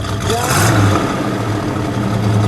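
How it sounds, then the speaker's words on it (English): A 1968 AMC AMX survivor's engine running loud and close, with a brief rev rising over the steady rumble and then settling back toward idle. "Give it a little rev, would you"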